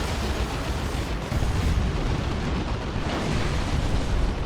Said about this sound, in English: These guys with their heavy mortar cannon.